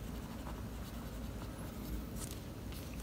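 A Jinhao 86 fountain pen with a fine nib and black ink writes on paper, giving close, continuous scratchy strokes with small pauses between letters and no talking.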